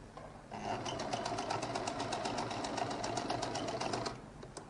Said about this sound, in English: So I'll now turn this, stitch this one down properly.